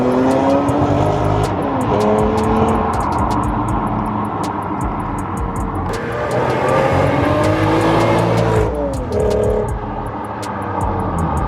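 A BMW E46 M3 with a Magnaflow catback exhaust accelerates through the gears, loud and close, its engine note repeatedly rising and dropping at each shift, with no talking.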